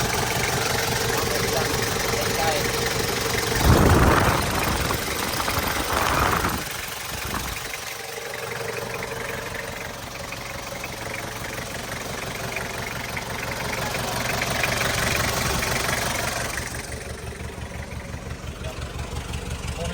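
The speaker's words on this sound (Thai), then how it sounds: "เครื่องนิ่มๆเครื่องนิ่ม" A Ford Ranger 2.5 4x4 pickup's engine idles steadily and close by, a smooth continuous low rumble, with a couple of brief louder bursts of handling noise along the way.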